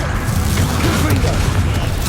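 A loud, rumbling burst of a fiery Confringo spell explosion in the video game Hogwarts Legacy, a dense booming blast filling the whole moment with crackling debris.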